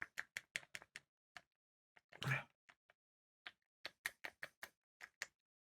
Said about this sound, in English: That's stirring, you know.